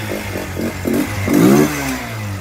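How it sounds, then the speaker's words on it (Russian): A Racer RC150-GY motorcycle engine runs just after a cold start, chugging in uneven pulses at idle before a short, rougher rise in revs, close and fairly loud with no talking. "Как он заводится, работает."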